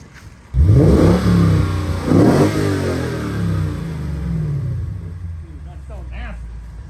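A V8 engine roars to life and revs twice in quick, loud bursts, then settles into a deep idle while a voice talks briefly near the end.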